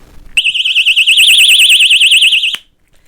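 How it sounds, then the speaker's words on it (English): A personal safety alarm, triggered by pulling its pin, lets out a loud, piercing warbling wail that holds steady for about two seconds, then cuts off abruptly into quiet. "It also flashes if you need it to flash, and it also has the alarm and is rechargeable."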